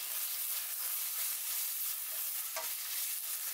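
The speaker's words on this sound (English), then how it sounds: "Add the required salt and saute it until the shallots turns a little golden in color" Shallots with ginger garlic paste and salt sauté in a hot pan, giving a bright, continuous hissing sizzle up close with a brief stir or scrape partway through and no voices.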